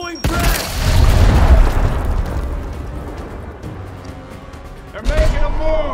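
A grenade in Gears Tactics lets off a loud, booming blast that rolls on and slowly fades, then a second sharp burst of explosion hits near the end.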